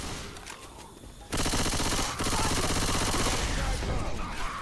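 Sustained, loud automatic gunfire from a Left 4 Dead 2 co-op session, a dense rapid stream that starts abruptly after a quieter stretch and keeps hammering without a break.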